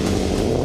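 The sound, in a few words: car engine revving at slalom start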